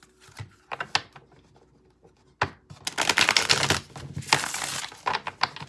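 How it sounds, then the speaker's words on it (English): Tarot cards are shuffled by hand, a few soft taps and riffles followed by a longer burst of rapid papery flicking, close and fairly loud. "Okay, one more shuffle."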